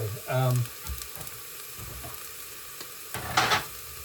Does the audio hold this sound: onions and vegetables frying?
yes